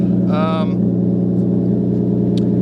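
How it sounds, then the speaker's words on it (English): A Lexus IS300 idles steadily while warming up, a close, low, even engine hum with a regular pulsing beat that runs throughout, briefly overlapped by a short voice near the start. "You can probably hear the car warming up."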